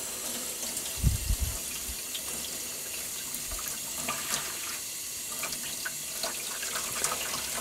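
Tap water runs steadily over an acid-etched aquatint etching plate being rinsed, a continuous hissing splash with a few heavier low gurgles near the start, moderately close and without voices.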